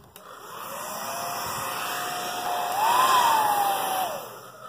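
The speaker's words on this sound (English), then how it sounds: "a blow dryer would work just fine. And so I'm going to go grab one, and we're going to heat these sides up" A handheld blow dryer runs steadily to heat the sides of a MacBook Pro accessory, a smooth whirring hum that shifts pitch slightly as it moves, then fades off; close and alone.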